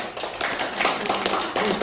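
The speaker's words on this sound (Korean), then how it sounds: "박수." An audience breaks into clapping during a monk's spoken lecture, a dense, steady patter of many hands that fills the whole stretch, with voices mixed in underneath.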